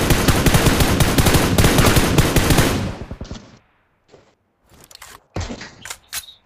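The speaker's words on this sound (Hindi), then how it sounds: "मैं रैंडम फायर दे रहा हूँ" Rapid automatic gunfire from an M416 rifle in PUBG Mobile, a loud sustained burst for about three seconds, then silence broken by a few short, sharp bursts and clicks.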